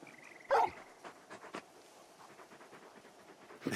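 Torgal, the big dog companion in the Final Fantasy XVI video game, gives a short, close burst of panting with a brief whimpering note, then quieter breathy sounds trailing off alone.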